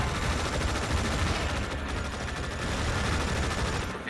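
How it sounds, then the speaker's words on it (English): Artillery fire in the video game Tom Clancy's EndWar, a dense barrage of rapid blasts and crackling bursts running continuously at close range, loud with no pauses. "Artillery fire on our position."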